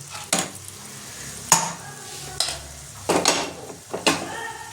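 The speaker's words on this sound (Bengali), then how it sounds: "এটা আমি এবার ভালো করে কষিয়ে নেব" Fish masala sizzles in a pan while a spatula scrapes and knocks against it in several sharp strokes, the frying hiss continuing steadily between them.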